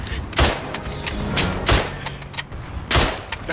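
Guns fire in a video game shooter in three loud, sharp bursts about a second apart, each with a booming low tail, with faint talk underneath.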